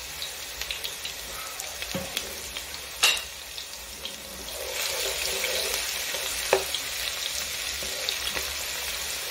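Food fries in a pan with a gentle sizzle that swells louder partway through, broken by a few sharp clinks and scrapes of utensils, heard close with no talking.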